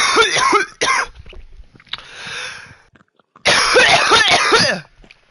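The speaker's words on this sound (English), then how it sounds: "when you were coughing a second ago, you sounded a little bit like the Tasmanian devil" A person coughs hard and raspy several times up close, a short burst, then a pause with a strained wheezing breath, then a longer loud run of rough throaty coughs.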